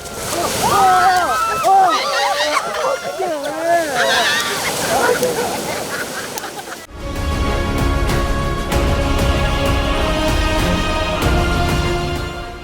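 Sea waves with white foam wash ashore, a loud rushing and sloshing surge that carries on steadily, with people talking and calling over it in the first half.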